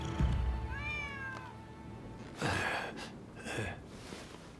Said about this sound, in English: Who'd have thought a stray cat would wander in?